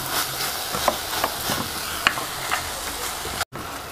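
Sesame seeds and melted jaggery for til chauli are stirred continuously in a pan, with a soft sizzle and scattered scraping taps from the spoon and a brief gap near the end.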